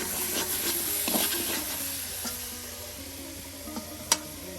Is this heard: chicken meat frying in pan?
yes